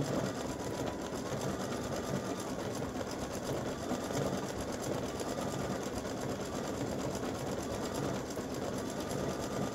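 Embroidery machine stitching free-standing lace for a breast cancer awareness ribbon, a steady fast needle chatter humming evenly and unbroken throughout, fairly quiet and close with no voices.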